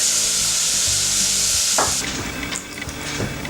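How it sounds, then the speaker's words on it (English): Onions and turmeric fry in a pan with a steady, close sizzle, then quieter stirring clatter and scrapes as the hiss drops partway through. "Fry up some onions and turmeric."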